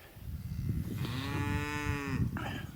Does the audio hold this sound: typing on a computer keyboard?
no